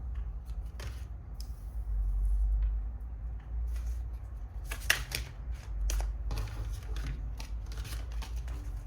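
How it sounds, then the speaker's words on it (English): A deck of tarot cards is shuffled by hand close up, producing scattered soft riffles and snapping flicks of card stock over a low background hum, with no talking. "Let me shuffle the deck and see what's the message for you."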